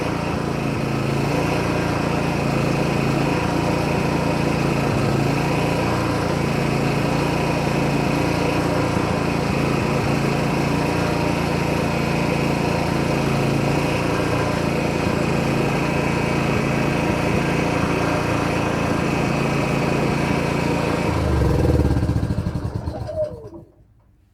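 A BE 3600W inverter generator runs steadily with an even, fairly quiet engine hum for over twenty seconds before shutting down and spinning to a stop near the end.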